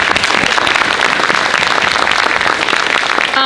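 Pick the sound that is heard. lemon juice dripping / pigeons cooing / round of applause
round of applause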